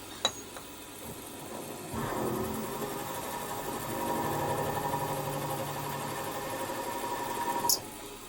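A milling machine cuts 4.2 mm deep counterbores for Allen bolts, a steady mid-pitched machining whine with harmonic bands running from about two seconds, after a quieter motor hum, and a brief click near the end.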